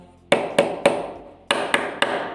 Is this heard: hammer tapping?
yes